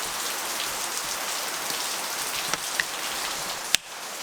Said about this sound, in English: some rain outside